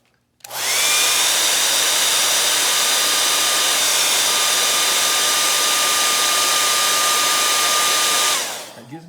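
Hair dryer blowing on a watercolor painting, switched on abruptly and running as a loud, steady close whoosh with a high whine for about eight seconds before cutting off.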